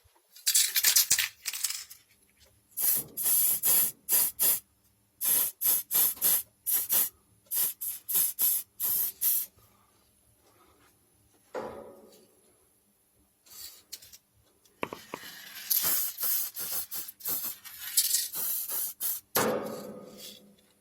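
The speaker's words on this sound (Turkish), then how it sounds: "paslanmış bölgeyi akrilik sprey boyayla bir kat boyayacağım." Acrylic spray paint hisses onto a scraped, sanded rusted dishwasher basket in short repeated bursts, each a sharp close aerosol spray separated by quiet gaps, with a few longer sprays near the end.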